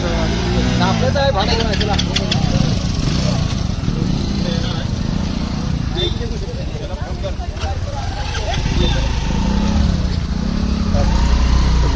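Motorcycles and other vehicles passing in heavy traffic near the crowded Napne waterfall and glass bridge in the Konkan, Maharashtra, a loud continuous engine drone with rising and falling passes and people talking throughout.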